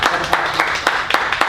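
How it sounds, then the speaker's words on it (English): An audience claps for a guest at a film interview event, producing a short burst of loose, uneven hand claps close by. "We can clap for her."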